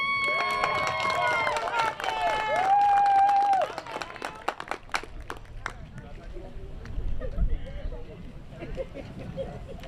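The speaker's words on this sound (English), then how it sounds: "y'all gonna clap for this boy or what?" Audience at a leadership academy stole ceremony claps and cheers for a young speaker, a steady patter of many hands under a loud tonal sound at first, then thinning into scattered claps with murmuring voices.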